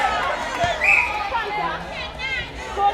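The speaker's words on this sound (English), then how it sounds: "A big cheer from the crowd as USA hit double digits with goal number 10" A crowd at an England vs USA netball match roars and chatters in a steady, close wash of voices, with swells of cheering and excited babble throughout.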